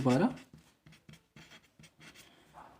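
Chalk or marker strokes on a classroom board during a physics lesson on dimensional analysis, a series of short scratchy taps and scrapes in a steady rhythm after a brief burst of speech at the start.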